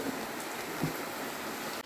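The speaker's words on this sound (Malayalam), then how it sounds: "പുറത്ത് സമയം മഴയുണ്ട് കേട്ടോ" Steady rain falls outside a house in Mangalore, a soft, even hiss heard at low level for a couple of seconds with no talking.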